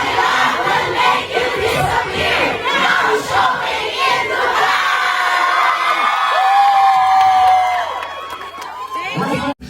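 A loud crowd of Filipino fans shouts, whoops and cheers at a special film screening in Dubai Mall, with dense overlapping voices that stay intense before easing near the end.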